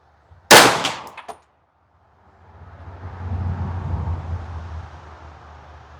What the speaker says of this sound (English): first round down range